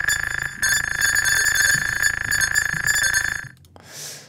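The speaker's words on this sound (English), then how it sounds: "Chimes." Synthesized chimes sound effect from Tsugi DSP sound design software, a bright sustained metallic ringing tone with layered overtones that holds steadily for several seconds, then stops abruptly and gives way to a brief soft airy hiss.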